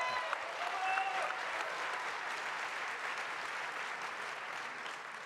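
Applause from a round-table audience at a building-trades event, even and sustained throughout, quite faint and distant-sounding, with no voices over it.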